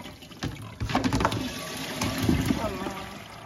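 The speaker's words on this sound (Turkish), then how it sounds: "Şimdi suyunu süzüyoruz." Boiled water draining off fresh homemade cheese for brine-curing, a steady watery pour and splash running for a few seconds close by, with brief louder gushes partway through.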